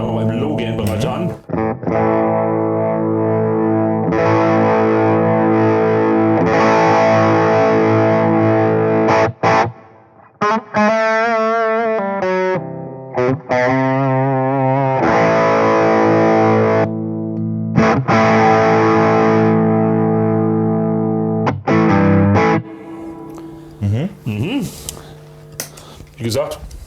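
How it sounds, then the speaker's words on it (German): Electric guitar played through a Tone City Bad Horse transparent overdrive pedal into an amp at low gain, loud sustained chords and riffs with mildly distorted, harmonically rich tone, some bent single-note passages and brief pauses. "Ein Transparent Overdrive ist ein Overdrive-Pedal, was so den Grundsound der Gitarre und vom Amp nicht wesentlich verändert."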